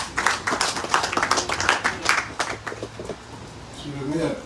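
Audience at an inauguration ceremony applauding, with a dense burst of many hands clapping for about three seconds before it fades out, then a voice begins speaking.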